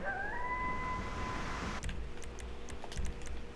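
A wolf howls in the GTA video game, a long rising then steady howl over a low ambient bed, cut off partway and followed by scattered soft clicks.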